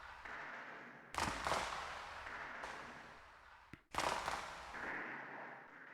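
Gunshots from the 1996 Sega Saturn visual novel Policenauts: two sharp, loud cracks a few seconds apart, each followed by a decaying echo, over a steady background hum with no speech.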